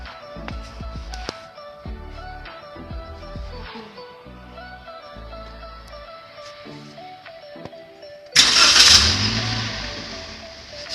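A car engine with its airflow sensor removed cranks and catches near the end, a sudden loud roaring burst that follows a stretch of background music.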